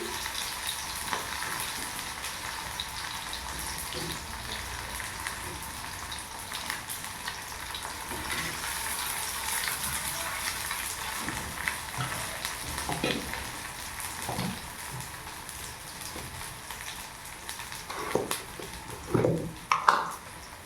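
Onions sizzle steadily in a hot pan, a continuous close hiss with occasional scraping and stirring knocks, a few louder clatters near the end.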